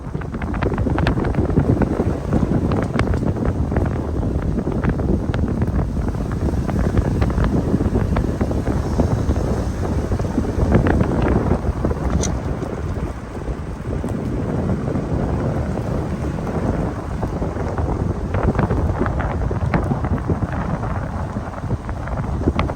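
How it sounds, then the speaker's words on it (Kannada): Steady wind blows and rumbles across the microphone throughout, loud and continuous with no voices. "ಇವತ್ತು ಒಳ್ಳೆ ಗಾಳಿ ಬೀಸ್ತಾ ಇದೆ ತಂಪು ತಂಪು ವಾತಾವರಣ"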